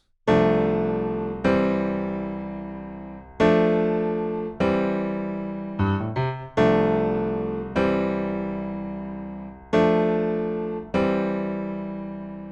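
Piano plays the outro of a song as a series of rich sustained chords, struck every second or two and left ringing, with a brief cluster of quicker notes partway through.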